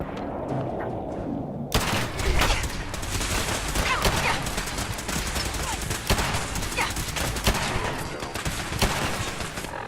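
Fallout 4 gunfire bursts out after a quiet moment and keeps going as dense, loud rapid shots and booms with no pauses, and a voice is faintly present underneath.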